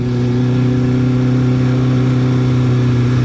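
Suzuki Hayabusa motorcycle engine held at a loud, steady high-revving drone, close and continuous with no talk.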